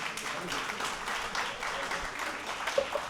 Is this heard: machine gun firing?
no